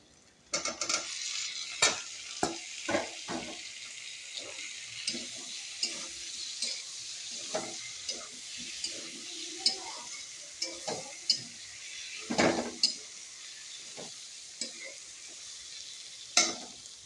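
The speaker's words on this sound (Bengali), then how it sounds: "এখন আলু দিয়া হালকা নাড়াচাড়া করিয়া আর ঝোল দিলাম" Potatoes stirred into a fried spice paste in a pan for a vegetarian curry: a low, constant sizzle under repeated spatula scrapes and occasional metallic clinks against the pan, close and unhurried, with no speech.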